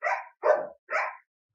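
Three separate dog barks, evenly spaced and fairly loud, with short pauses between them and nobody talking.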